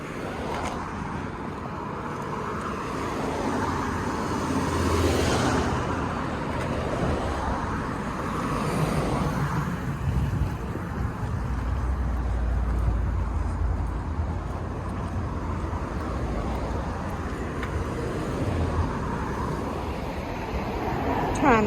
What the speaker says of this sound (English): There's a lot of cars going by